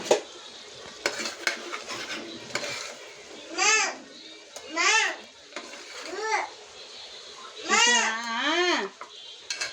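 Someone shouts and cries out in several loud, drawn-out bursts near a pan of gongura mutton being stirred and fried, with a soft sizzle and clinks of utensils underneath.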